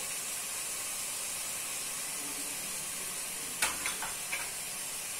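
Potato fried rice base with tomato pieces, salt and turmeric frying in a pan, a continuous even hiss and sizzle with a few brief clatters of stirring toward the end.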